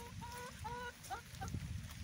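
Outdoor backyard chickens giving a few short, honking clucks in quick succession, fairly quiet, with some rustling and low background noise in between.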